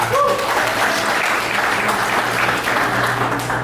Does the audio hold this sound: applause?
yes